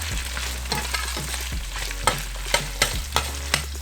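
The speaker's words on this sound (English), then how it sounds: "I'm gonna go ahead and add in my carrots so they can start cooking" Carrots fry in a pan for sweet and sour chicken, giving a steady close sizzle broken by a few sharp scraping stirs near the end, with no talking.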